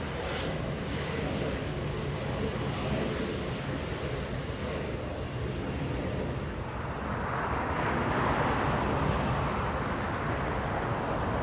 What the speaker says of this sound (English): KLM 602 flying to Amsterdam at 777